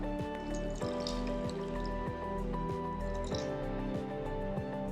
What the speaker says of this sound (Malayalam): വേവാനായിട്ട് ആവശ്യത്തിനുള്ള വെള്ളം കൂടെ ചേർക്കുക കേട്ടോ.